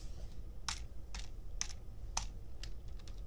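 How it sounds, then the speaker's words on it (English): A few scattered, crisp keystrokes tap on a keyboard, sparse and close, with quiet gaps between them. "What's with my typing today?"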